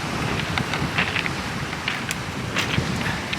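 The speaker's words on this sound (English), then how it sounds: "It's cold, cold, and it's windy, and there's a few rain showers." Steady wind gusts outdoors on a cold night of shore sea fishing for bass on the Isle of Wight, a continuous broadband rush with slight buffeting and no voices.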